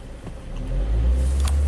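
A Chevy Captiva GDI engine, swapped and throwing a high fuel pressure fault, revs up to a higher RPM with a close, rising mid-pitched roar.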